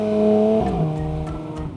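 Porsche Cayman GT4 RS engine downshifting in manual mode, a loud, close mechanical drone whose pitch drops partway through as the gear changes, then settles into a lower steady note with the revs.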